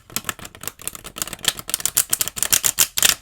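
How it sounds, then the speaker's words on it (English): A deck of tarot cards is shuffled close by, giving rapid, irregular bursts of crisp flapping clicks with no talking. "I'm going to do one more shuffle"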